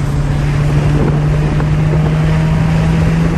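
Steady engine and road rumble from inside a moving JDM right-hand-drive Honda EG4 VTi, a loud continuous drone with a strong low hum and wind noise, no talking.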